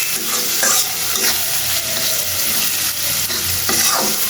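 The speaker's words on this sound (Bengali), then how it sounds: "এদিক দিয়ে পেঁয়াজ আর আদা একসাথে ভেজে নিচ্ছি।" Onion and ginger sizzle together in a hot pan, a continuous loud crackling fry with a spatula stirring and scraping through it, close and with no one speaking.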